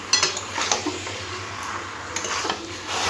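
Marinated chicken is stirred into spice masala in a metal pan, with clanking spoon-on-pan knocks and scrapes over a soft sizzle.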